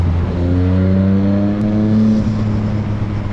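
A Yamaha MT-09 motorcycle engine revs up loud and close, its pitch climbing steadily and then settling back, over a constant roar of road and wind noise.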